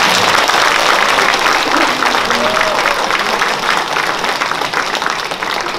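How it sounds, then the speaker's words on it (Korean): Loud, continuous applause from an audience honoring elderly guests at a Korean gathering, steady dense clapping with faint voices underneath. "큰 박수 한번 어르신들 보내주시겠습니다"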